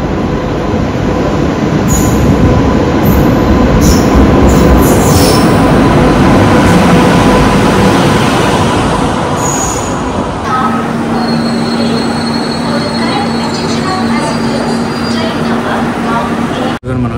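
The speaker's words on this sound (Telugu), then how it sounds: "ఇదిగో మన ట్రైన్ వస్తూ ఉంది ఎర్నాకుళం టు టాటా నగర్" Ernakulam to Tatanagar express train (18190) pulling into a station, with a loud continuous rumble of rolling wagons and squealing wheels throughout and a steady hum as it slows near the platform.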